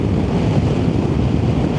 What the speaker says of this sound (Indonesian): Angin dari depan juga kuat nih.